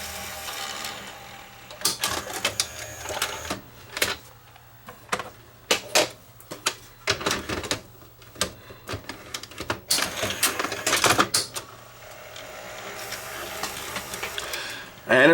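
An analog video cassette recorder mechanism runs, with faint hum under irregular clicks, clunks and whirring bursts of loading gear, near and fairly quiet.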